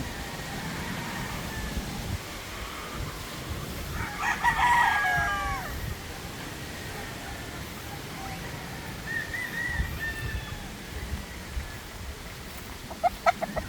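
White Boston gamefowl roosters on a farm crow and cluck: one strong crow rises mid-clip over a steady rustling background, followed by a fainter second crow and a few sharp clucks near the end.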